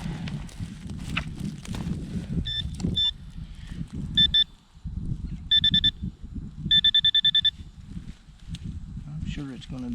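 Metal detector in a bean field giving four repeated bursts of high pulsing signal tone, loud and consistent, over rustling and digging noise with someone talking throughout.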